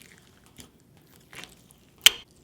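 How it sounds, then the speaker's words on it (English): Crunchy slime with red foam beads in a school-glue base being squeezed, giving a few soft crackles and then one sharp, loud crunch near the end, close up and alone. "Oh, listen to that crunch."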